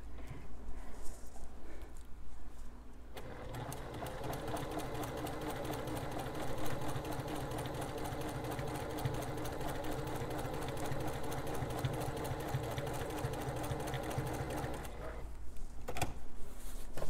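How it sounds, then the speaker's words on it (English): A sewing machine stitches quarter-inch seams on a quilt-as-you-go placemat in one continuous, rapid, buzzing run that starts after a short pause and stops near the end, with soft handling noises around it. "come right back over the top and sew our 1/4 inch seams"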